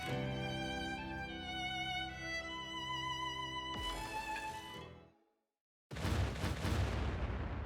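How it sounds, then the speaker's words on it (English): Booming explosions and crackling bursts in the game Punishing: Gray Raven build over a sustained tone, drop into a moment of silence, then erupt again in a loud, dense barrage. "Explosions erupt from all directions"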